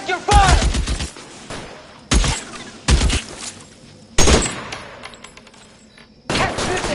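Gunfire in L.A. Noire comes in four or five separate loud bursts of rapid shots with quiet gaps between them.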